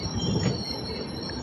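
A passenger train on the East Coast Express route pulls into Bhuvanagiri station, its wheels giving a loud, steady metallic squeal over a continuous rumble of rolling stock. No voices are heard.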